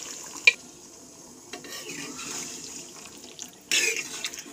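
Boiled peas tipped into a pan of chicken and potato masala for chicken ghugni, giving two brief soft clatters of spoon and pan over a quiet kitchen background.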